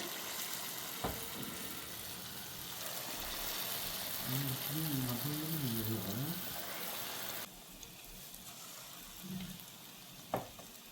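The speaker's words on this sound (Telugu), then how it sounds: "ఆయిల్ కూడా కాగిపోయింది నేను చిన్న చిన్న పునుగుల్లాగా వేసుకుంటున్నాను" Small drops of Mysore bonda batter frying in hot oil, making a continuous soft sizzle close by. A brief voiced sound comes partway through, then the sizzle gets quieter, with a sharp clink near the end.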